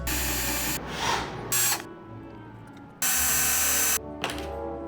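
A power drill run in several short bursts and one sustained stretch while building the fretting hand of a self-playing guitar, loud and close with brief pauses and thunks between runs.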